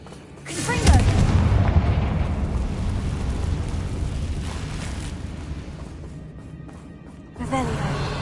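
A Confringo blasting spell in the Hogwarts Legacy video game goes off as a heavy, booming explosion with a rumbling tail that fades over several seconds, followed by a second burst at the end. A voice calls out over the first blast.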